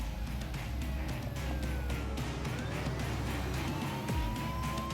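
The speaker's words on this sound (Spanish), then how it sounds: "¿Y esa sirena?" Police siren wailing across open empty country, rising and falling tones sounding at moderate distance over a low engine rumble, with a car passing close near the end.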